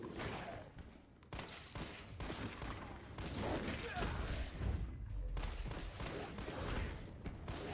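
Gunfire in the Resident Evil video game: sustained rapid bursts of shots and booming impacts roll on almost continuously, dense and loud, with a few brief gaps between volleys.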